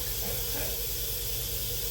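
A steady, close hiss of escaping steam with a low rumble beneath, holding constant for a couple of seconds.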